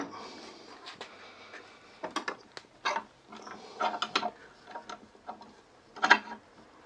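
Bar clamps being tightened onto a piece of wood held between shims for woodcarving, giving a series of close, uneven clicking and ratcheting bursts with brief pauses between turns.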